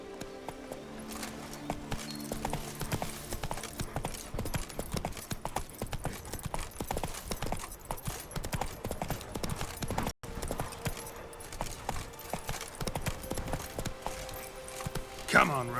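Horse Roach's hooves clip-clop in a steady trotting rhythm within The Witcher 3: Blood and Wine, set against continuous game music and ambience, with a voice talking intermittently over the hoofbeats.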